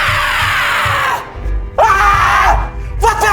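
A woman screams loudly while acting out a tense confrontation scene, with sustained raw vocal cries broken by short gaps and a second shrill outburst near the end.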